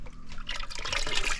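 Clear water gushes and splashes from the outlet of a DIY ram pump that lifts water without electricity or fuel, a continuous near, bright stream with no talking.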